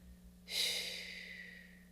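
A single deep exhale, a soft airy rush that starts abruptly, then slowly trails off over a faint steady background hum.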